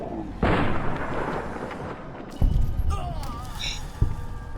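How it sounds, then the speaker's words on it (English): Gunfire in Fallout: New Vegas aimed at a fleeing convict: three heavy, booming shots spread a couple of seconds apart, each with a rumbling tail, under someone talking. "I'm looking at my character shooting a convict who's just started to flee"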